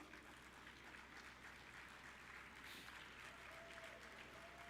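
Audience at a Rotary conference applauding a couple, a steady wash of many hands clapping that holds evenly throughout, moderately distant and without a break.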